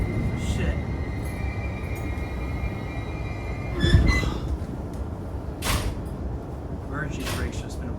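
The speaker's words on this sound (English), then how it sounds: "Emergency brakes just been applied." A JR East commuter train in Tokyo braking hard as its emergency brakes engage, giving a steady low rumble with a heavy thud and brief high squeals, close by inside the carriage.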